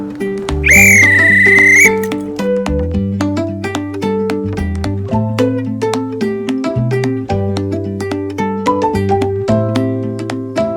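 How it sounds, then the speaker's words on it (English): A shrill whistle blows once for about a second at a train station, followed by a steady run of low tonal notes and clicks. "So you blew the whistle when you were ready to go"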